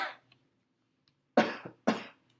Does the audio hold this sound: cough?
yes